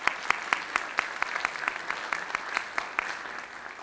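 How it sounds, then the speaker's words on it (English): Audience applause at an evening White House lecture event: steady clapping from a seated crowd, with a few sharp individual claps standing out in an irregular rhythm throughout, moderately loud and without talk. "Let's give him a big round of applause."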